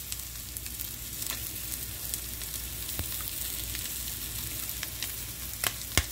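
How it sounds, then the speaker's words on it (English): Raw shrimp fry with garlic and pepper in a pan, giving a steady, fairly quiet hiss of sizzling with occasional sharp pops and crackles, alone without talk. "My recommendation is regarding frying raw shrimp is that you fry them well done."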